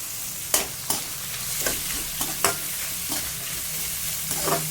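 Cabbage and mixed vegetables sautéing for egg fried rice, a steady sizzle in the pan broken by repeated scraping strokes of a spatula, close and alone with no talk.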